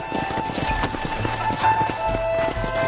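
Horse hooves clip-clopping at a walk in Red Dead Redemption after riders dismount, a steady rhythmic series of close hoof strikes over a faint ambient hum.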